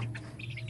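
Young chicks chirping in quick, high, repeated peeps, fairly faint over a steady low hum, with no talking.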